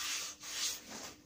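Morse hacksaw blade cutting with steady, easy back-and-forth strokes, a close, continuous rasping hiss with a brief dip between strokes and no voices.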